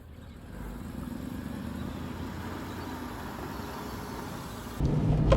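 An Aston Martin pulls away, giving a steady low engine and road drone heard from inside the car that swells a little louder near the end.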